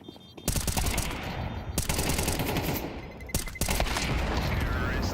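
Dense, rapid gunfire from a Counter-Strike match, near and loud, with bursts running almost continuously and brief pauses before resuming; talk may sit underneath the shooting.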